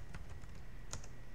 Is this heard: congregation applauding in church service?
no